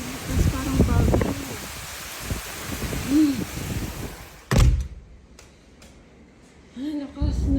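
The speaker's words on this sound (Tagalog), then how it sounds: "Ay, lakas ng ulan." Heavy rain in a storm pours as a loud, continuous hiss under a talking voice, then cuts off abruptly after a sharp thump. Quieter voices and faint sounds follow.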